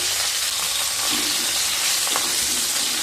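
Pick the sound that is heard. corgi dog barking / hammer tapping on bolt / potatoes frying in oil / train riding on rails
potatoes frying in oil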